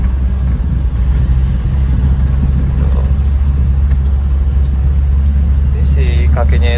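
Manual pickup truck engine labouring steadily up a steep incline, a constant low rumbling drone close by with no break, and a brief higher whine near the end.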